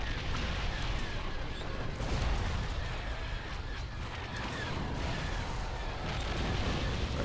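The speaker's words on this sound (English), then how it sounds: "And just fucking fire at the shield generator." Sustained heavy weapons fire and rumbling blasts aimed at a shield generator in a Star Wars Empire space battle game, a dense, continuous barrage with no pauses.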